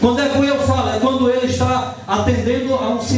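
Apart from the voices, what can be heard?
None of the usual background noises is heard.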